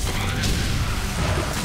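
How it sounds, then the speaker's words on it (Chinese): A big explosion goes off in the video game Nine Parchments: a dense, loud, roaring blast that fills the whole short burst with no break. "大爆炸！"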